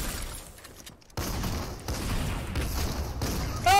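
Video game gunfire bursts in close and loud mid-match, heavy rapid blasts with mechanical clatter after a brief pause, ending in a sharp high-pitched whine.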